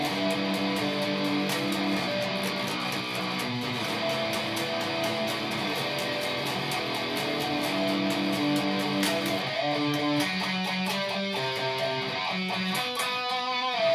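An electric guitar plays the full chorus of a song in busy picked notes, a little faster, steady and fairly loud, with no voices.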